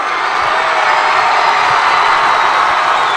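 Home crowd at Morton cheers at an IHSA sectional high school basketball game against St. Ignatius, a loud, steady roar that fills the gym throughout without letting up.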